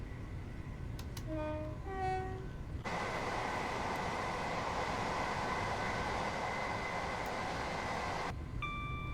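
A passing train runs on a railway line out of London Victoria toward Littlehampton, starting with a few horn-like tonal blasts, then a steady loud rumble and rushing clatter that holds for several seconds before easing, with no talking.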